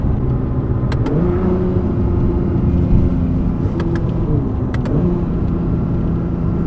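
A twin-turbo V6 hybrid supercar accelerates with a loud close engine drone that rises in pitch, dips at a couple of gear changes and climbs again, with short clicks and no talk.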